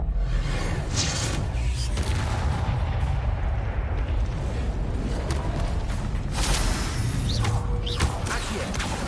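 Spell-casting effects from Hogwarts Legacy, an Expelliarmus disarming spell: a dense, loud rumbling blast texture with booming low end and a few sharp bright bursts near the end, continuous and with no talking.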